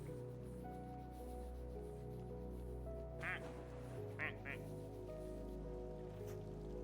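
A cartoonish duck quacks in the horror video game Daemonologie, two or three short bursts standing out over a steady hum of game music and ambience, with no talking.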